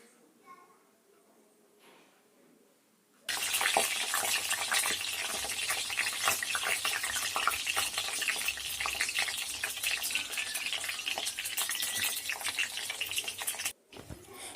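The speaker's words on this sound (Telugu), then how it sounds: "అలా 4 ఘాట్లు పెట్టుకున్న వంకాయలని ఆయిల్లో వేసి మంచిగా ఫ్రై చేసుకోవాలి" Slit brinjal pieces, soaked in salt water, hit hot oil and frying bursts into a loud, crackling sizzle after a quiet start, spluttering steadily and then cutting out briefly near the end.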